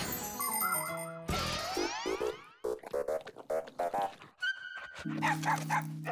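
Cartoon dog from the children's animated series Les Fixies, barking and growling in short bursts amid boings, dings and musical sound effects, loud and close with no talking.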